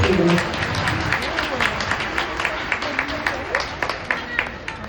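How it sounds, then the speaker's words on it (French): Audience applause for a four-year-old child at a small gathering, a dense patter of clapping hands sustained throughout, moderately near, with voices mixed in. "Je vous invite à l'applaudir très très fort une fois qu'elle l'aura trouvé."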